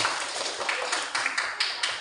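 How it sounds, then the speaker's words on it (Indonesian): Hand claps in a rhythmic pattern of single and double claps, sharp repeated taps in an indoor group setting, fairly close and steady with no voices. "Tepuk tunggal, tunggal, ganda, tunggal, tunggal, ganda."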